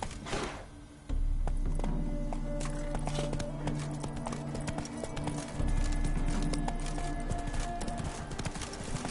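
Geralt's horse Roach gallops in The Witcher III, a fast rhythmic clip-clop of hooves that builds to a loud, steady pounding and carries on throughout, with faint game ambience beneath.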